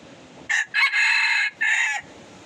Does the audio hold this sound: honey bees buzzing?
no